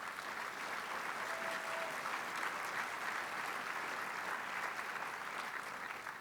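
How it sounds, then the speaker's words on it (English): Steady, dense applause from a large breakfast-event audience honoring a state legislator, a continuous wash of many hands clapping at even loudness throughout with no voices on top. "I hope you'll give yourselves a huge round of applause for that work"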